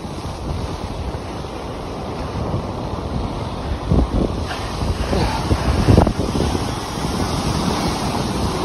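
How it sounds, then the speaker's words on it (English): Rough, stormy sea surf at Porthleven in Britain, with a steady roar of breaking waves and heavy wind buffeting the microphone, and a couple of louder crashes standing out. "There's a wave."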